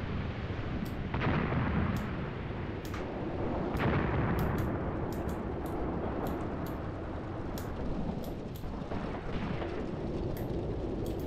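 Artillery barrage in the WWII tactical wargame Graviteam Tactics: a dense, continuous rumble of distant shell bursts and booming impacts, with repeated heavier thuds standing out over a roaring background, no voices.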